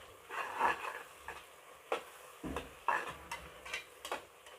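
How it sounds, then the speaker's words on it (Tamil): Onions sautéing in a pan for mutton biryani, a faint sizzle broken by irregular scraping and tapping of a spoon against the pan. "இப்போ பாருங்கள் வெங்காயம் நல்லா வதங்கிட்டு இருக்கு"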